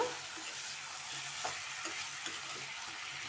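Mixed vegetables with cauliflower being stirred in a pan, giving a steady close sizzle with soft scraping strokes and a few light clicks of the spoon, with no voices.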